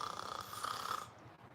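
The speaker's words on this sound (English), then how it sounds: "The old man snores." An old man snores in a steady, rhythmic run of low rasping breaths, fairly faint and close, with no talking over it.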